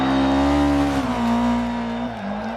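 Volkswagen Golf rally car in a racing video game, its engine holding a steady loud drone with strong harmonic tones that dip slightly as the revs shift, running continuously up close.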